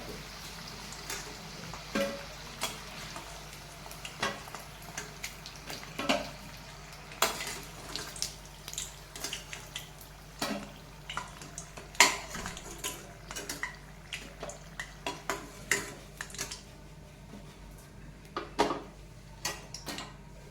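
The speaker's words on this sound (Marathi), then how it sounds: "राहिलेली पनीर मी आता यामध्ये फ्राय करून घेते सगळी" Paneer pieces frying in a pan give a faint, steady sizzle under frequent light clinks and taps of a spoon against the pan.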